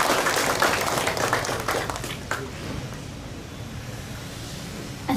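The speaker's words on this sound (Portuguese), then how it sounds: "Uma salva de palmas." Applause from an audience at a Timorese resistance museum ceremony, dense clapping for about two seconds that thins and fades to a soft murmur, with a brief spatter near the end.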